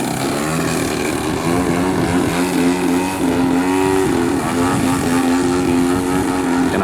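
A Hostetler 33% Super Chipmunk model airplane flies on its first flight, its engine giving a loud, steady buzzing drone that rises and falls slightly in pitch as the plane moves.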